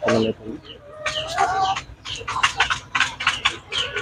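Young Bhimavaram chicken chicks chirp in a busy cluster of short, high peeps, some rising calls overlapping, heard close by alongside someone talking.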